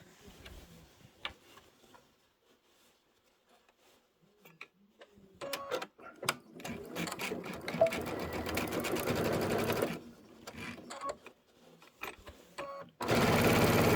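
A sewing machine stitches fabric, starting with scattered soft ticks and clicks, then running in a steady close whirring burst, pausing, and starting again loudly at the end.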